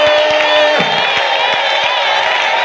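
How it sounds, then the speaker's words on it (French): A church congregation at a general retreat shouts cries of joy, a loud, dense wall of massed voices and whoops filling the space continuously, with a few sharp claps or thumps punctuating it. "Poussez maintenant le cri de joie."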